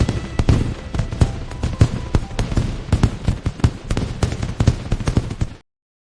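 Firecrackers set off during Shab-e-Barat crackle and pop in rapid, irregular bursts, a dense string of sharp explosions continuing for several seconds before stopping abruptly.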